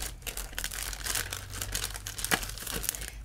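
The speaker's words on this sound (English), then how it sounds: "So I'm gonna take it out, and sorry for all the noise" Scrapbook paper from an expo haul crinkles and rustles as it is pulled out of its plastic packaging, a close, continuous crackling with sharp tearing bursts and no voice.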